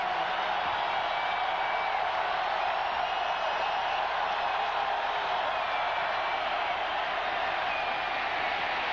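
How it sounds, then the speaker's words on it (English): Football stadium crowd at a 2000 NFL game, Giants at Tennessee, roaring steadily as a broad, sustained wall of cheering noise with no break across the whole stretch. "on cue the crowd starts to erupt"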